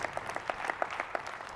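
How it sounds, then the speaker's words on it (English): A small audience at an insurance keynote gives a brief patter of applause, thin and fairly distant, with individual claps audible in an uneven rhythm. "Somebody clapped."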